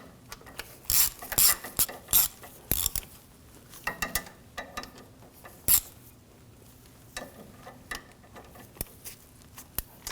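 Small ratcheting and clicking of a hand tool tightening 10mm bolts on a thermostat housing of a 2007-2013 BMW 328i 3.0L, close and fairly quiet, in short bursts separated by pauses, with no talk.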